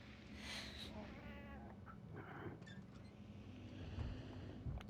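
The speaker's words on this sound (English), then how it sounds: "Cat." A cat meows faintly a few times through a constant wash of wind-like background noise, with a low rumble underneath.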